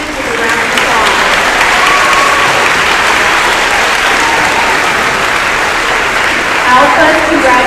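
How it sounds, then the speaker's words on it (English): Audience at a sixth-grade end-of-year awards assembly gives students a sustained, loud round of applause, dense clapping filling the whole stretch with no break. "Please help me in congratulating these students with a round of applause."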